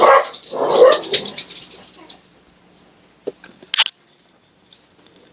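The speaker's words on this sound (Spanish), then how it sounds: "es que mis perros hay veces se ponen un poco canzones y salen ahí a molestar" Dogs barking close and loud in a short burst at the start, then fading out, followed by a few sharp clicks and knocks in a quiet room.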